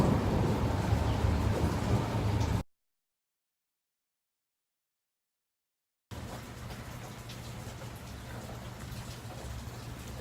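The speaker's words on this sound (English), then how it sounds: "So it's raining outside." Steady rain falls outdoors as a dense, even hiss. It cuts out completely for a few seconds mid-clip, then resumes at the same level.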